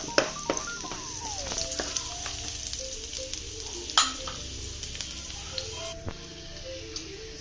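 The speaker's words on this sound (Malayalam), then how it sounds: "പിന്നെ വേണ്ടത് വെളുത്തുള്ളി ചെറിയുള്ളി അരിഞ്ഞതാട്ടോ ഇത് നന്നായിട്ടൊന്ന് മൂപ്പിച്ചെടുക്കാം" Chopped garlic and small onions fry in coconut oil in a pan, a steady close sizzle with scattered crackles, pops and light utensil ticks, with no voices.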